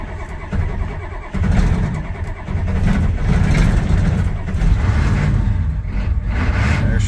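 A Ford 6.9 IDI diesel engine cranks, then fires and catches, settling into a loud, steady, rough diesel run close to the microphone.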